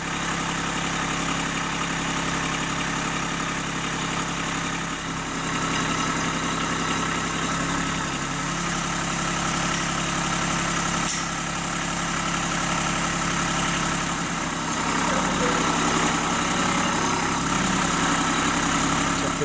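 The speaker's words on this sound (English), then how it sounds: "Now I'm going to lift up that back horizontal bar with the forklift and connect it to these two posts." A forklift engine idles with a steady, continuous low drone while lifting a solar ground-mount rack bar, the tone shifting slightly in pitch as the load moves, loud and close without any talk.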